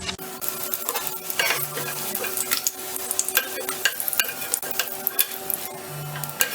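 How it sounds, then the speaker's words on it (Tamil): Egg pieces frying in oil in a pan, turned over on all sides: a steady close sizzle with intermittent stirring and scraping clinks throughout, no talking. "எல்லா பக்கமும் திருப்பி விட்டு ரோஸ்ட் பண்ணி எடுப்போம்"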